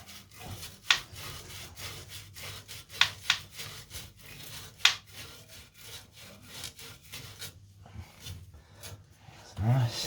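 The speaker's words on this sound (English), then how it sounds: "Sandpaper. Rub, clean up." Sandpaper rubbed briskly over a pipe to clean it during a toilet flexi pipe installation, a series of rhythmic scratchy strokes close up, with a person talking quietly.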